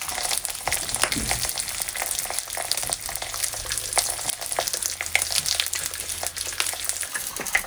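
Bacon frying in a pan, a steady close crackling sizzle with scattered pops running throughout, alone without voices, with a low hum underneath.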